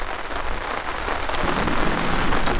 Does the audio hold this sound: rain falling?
yes